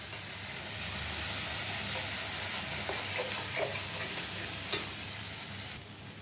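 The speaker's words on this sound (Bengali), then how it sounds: "সেই পেস্টটা আমি এই বাটিতে নিয়ে নিয়েছি। সেটা আমি কড়াইতে দিয়ে দিলাম।" A paste of cashew, poppy seed, melon seeds, raisins and green chilli sizzles steadily in a hot kadai for a fish rezala, a dense, even hiss with faint stirring scrapes and no voices.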